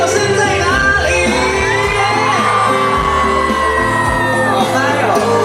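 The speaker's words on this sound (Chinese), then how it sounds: "光荣的尖叫声在哪里？" A concert crowd at a Christmas outdoor show screams, whoops and cheers continuously, loud and dense, with high shouts rising above the roar and no clear speech.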